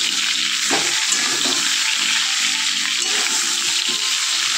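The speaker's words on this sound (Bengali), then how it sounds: "আলু পটলটা ভেজে নেবো লাল লাল করে" Potato and pointed gourd frying in oil in a pan, a loud, dense, unbroken sizzle close up, with low scraping shuffles as the pieces are moved around.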